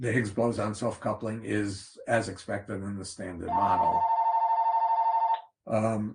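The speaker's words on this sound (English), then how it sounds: "Please excuse the phone that just went off." A phone goes off during a physics lecture: a steady electronic ring cuts in after the lecturer speaks, sounds alone for about two seconds and stops, and the talk resumes.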